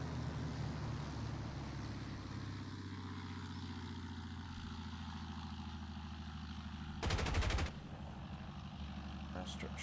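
P-40E fighter guns fire in War Thunder, a short loud burst of rapid machine-gun rattle over the steady drone of the plane's engine, lasting under a second before the engine hum resumes.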